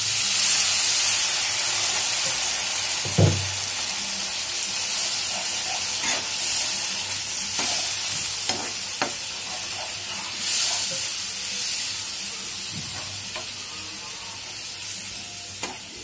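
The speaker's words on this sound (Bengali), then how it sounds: "এবার জল দিয়ে নেব।" Water poured into a frying katla fish curry with potatoes sets off a loud, continuous sizzling hiss and steam, with a few brief clinks of a utensil against the pan.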